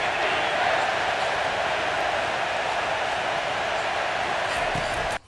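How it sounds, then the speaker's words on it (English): A stadium crowd in the College Football 25 video game roars on a third down, a loud continuous wash of cheering noise that holds steady before cutting off abruptly at the end. "Third down, and this crowd is tearing the lid off this place."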